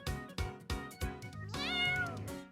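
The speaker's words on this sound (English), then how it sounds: "Meow! You said." A cat meows repeatedly, several short close meows in quick rhythm followed by a longer rising, wavering cry, clear and alone without talk.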